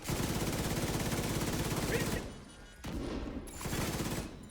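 Enemy gunfire in a video game: rapid, loud automatic bursts fire continuously, then break off and resume in shorter stuttering volleys.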